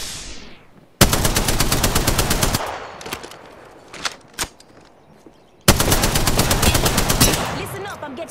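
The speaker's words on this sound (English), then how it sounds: "Listen up, I'm getting shot at." Automatic gunfire in the video game Apex Legends: two long, loud, rapid bursts bracket a few scattered single shots, close and alone without talk.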